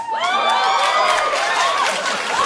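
A studio audience on a TV show bursts into cheering and whoops, a loud, continuous crowd roar with rising high-pitched shouts throughout.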